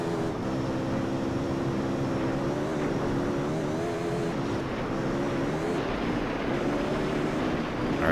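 A car engine in the PS2 racing game Gran Turismo Concept revs high on the Swiss Alps course. It gives a continuous buzzing drone whose pitch climbs and drops with gear changes, steady and moderately loud throughout.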